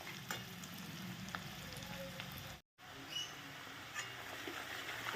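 Onions frying in a pan until half browned, for a radish ghonto: a steady close-up sizzle and crackle that cuts out briefly midway, then carries on.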